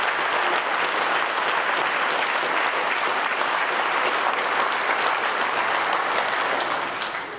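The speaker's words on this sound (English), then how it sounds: "make sure that you give him a round of applause as well" Loud, continuous applause from an audience at a college football signing day celebration, a thick roar of clapping that holds steady and starts to fade at the very end.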